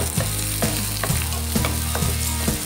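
Onions hit a hot frying pan while breakfast is cooked with camel liver, setting off a loud, close sizzle broken by regular clacking knocks about every half second.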